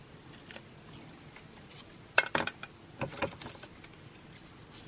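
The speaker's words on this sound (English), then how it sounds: "And I'm also going to cut out this part here." A few sharp scissor snips through paper while cutting out a paper doll angel, two quick clusters of crisp cuts, close and fairly quiet against a soft room background.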